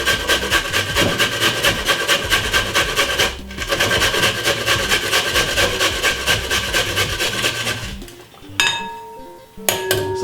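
Medium-sized carrot rubbed quickly against a grater in a kitchen, producing a dense run of rhythmic rasping strokes that pauses once, then ends in a few scraping clinks and a clatter.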